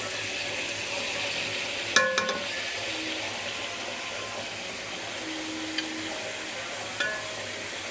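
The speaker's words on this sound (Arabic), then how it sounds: "هنا نقلبه كل ما شوية يتغير لون الدجاج، نقلبه حتى أضيف له البهارات مالته" Chicken fries in a pan with a continuous steady sizzle, while a few light clinks and scrapes of a utensil turning the pieces break in at intervals, close up and without voices.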